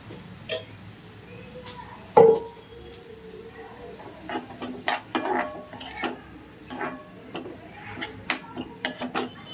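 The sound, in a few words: mixing moong dal with turmeric and salt in pan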